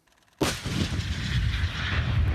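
A 152 mm Akatsiya self-propelled artillery gun fires a single round outdoors, a sudden massive boom close by that rolls into a long, loud, rumbling decay.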